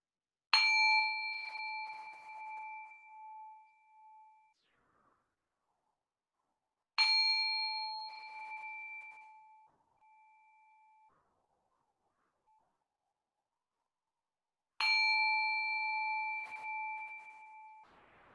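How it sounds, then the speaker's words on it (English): A bell rings three times, each clear strike left to ring out and fade in silence before the next one. "I'm going to ring the bell 3 times"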